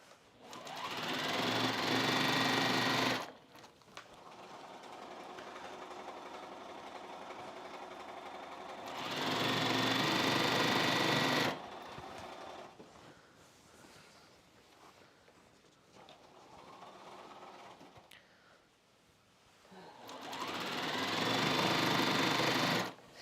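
Sewing machine stitching jelly roll quilt strips in several long bursts of fast, loud whirring, separated by quieter pauses with faint handling noise.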